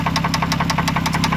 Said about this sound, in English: I don't see anything except the knocking coming from the engine.